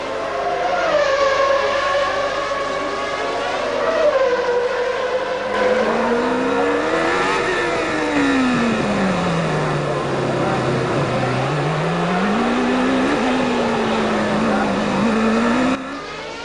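Formula One cars race through the 1994 Monaco Grand Prix, a loud continuous engine whine rising and falling as revs shift through the gears, with a commentator talking over it.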